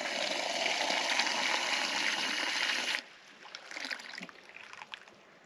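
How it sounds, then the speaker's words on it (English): Drinking water runs from a campground spigot into a container, a steady loud rush that cuts off abruptly partway through, leaving faint trickles and drips. "We're filling this up for our drinking water."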